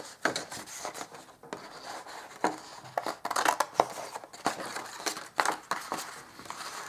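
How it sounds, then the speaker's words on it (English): Scissors cut a small piece from a junk craft piece, with irregular close snips and rustling, crinkling paper through the whole passage. "I'm going to cut a little bit of this out"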